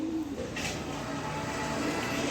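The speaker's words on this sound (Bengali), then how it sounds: "এখানে আরও এক পেয়ার আফসান গ্রিজেল কবুতর দিলাম।" A pair of Afghan grizzle racer pigeons cooing nearby, a low soft coo at the start followed by a steady background hum.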